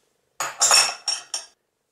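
Ice cubes drop into a glass for a homemade coconut drink: four quick clinking rattles in a row, close and clear, with no talking.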